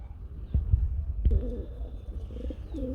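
Soft, low coos from a pair of large native Bengali pigeons repeat a few times nearby, faint against a quiet background with light rustling.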